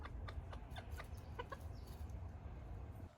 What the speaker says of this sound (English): I love those really happy chicken noises